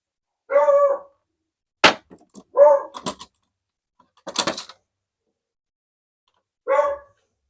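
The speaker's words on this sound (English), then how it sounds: "it's time for the dog to bark at everything." A dog barks in short, separate bursts, close and clear against a quiet room, with a few sharp knocks in between.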